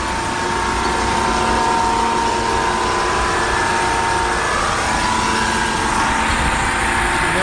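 A concrete ditch digging and forming machine running, a loud continuous engine and mechanical drone with a steady hum and no clear breaks, close by.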